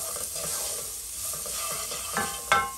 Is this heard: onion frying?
yes